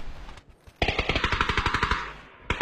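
A fast burst of automatic gunfire from a video game rattles off about fifteen close, loud shots in a steady rhythm, with a lone shot just after it and a short pause before the burst.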